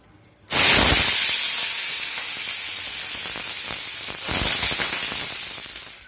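Potatoes dropped into hot oil burst into a loud, sudden sizzle that hisses steadily, flaring up again partway through as the frying continues close by.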